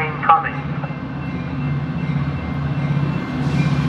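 Metra commuter trains meeting at Elmhurst station, one inbound and one outbound, giving a steady low rumble of passing rail cars with a brief sharp squeal near the start and the noise rising toward the end.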